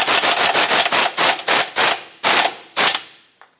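A hand ratchet snugs an 18mm outer tie rod mounting nut on a 2014-2021 Mazda 6, giving loud, close, rhythmic clicking strokes that start rapid and then slow into longer, spaced pulls before stopping.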